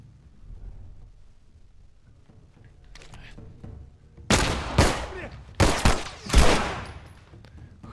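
Gunfire in The Last of Us rings out as three loud, sharp broadband blasts in quick succession, following a quiet stretch of faint game ambience.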